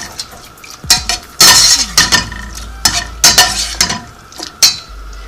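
Utensil stirring tofu and mixed vegetables with broth in a pan, giving loud close scrapes and clinks in irregular bursts, with a soft sizzle underneath and no voices.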